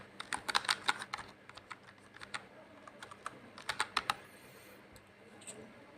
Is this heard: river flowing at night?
no